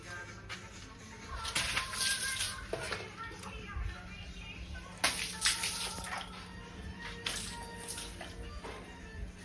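Water poured onto a freshly plastered wall to cure it: steady splashing and pattering that swells in several heavier gushes, close by, with voices talking in the background.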